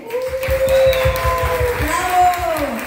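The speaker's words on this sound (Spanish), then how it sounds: "Un aplauso para Wilde." Guests at a baby shower clap in rhythmic, evenly spaced beats while voices and cheering carry over the top, close and lively.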